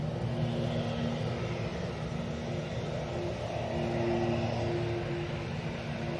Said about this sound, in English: that's a weird proppy noise